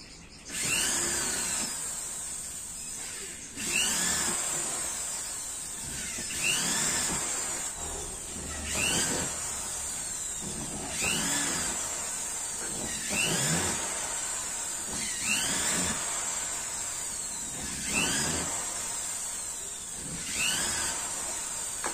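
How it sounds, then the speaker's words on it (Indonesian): A power drill with a 6 mm bit bores a ring of holes around a plastic bucket lid, in repeated short whining bursts roughly every two to three seconds, close and fairly loud, with brief pauses between holes. "Kita bor di sepanjang lingkaran tutup ember."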